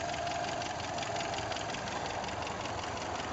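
A 1977 Toyota Hilux engine idles steadily nearby, a continuous even mechanical hum with a faint rapid ticking texture throughout, no voices.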